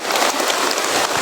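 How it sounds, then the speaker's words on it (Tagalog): Heavy rain pours down outdoors in a dense, loud, steady hiss of drops striking surfaces close by, with no voices. "Kaya lumalakas na yung ulan tol."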